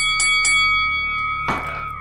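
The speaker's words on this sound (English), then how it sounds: "The bell rings as you shove the sword down Torn's throat." A single bell rings out during a dark fantasy tabletop game session, with two quick strikes followed by a long sustained ringing tone that hangs in the air, then another louder stroke before fading.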